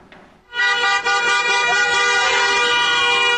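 A loud car horn blares continuously after a brief moment of busy street traffic noise, holding for several seconds.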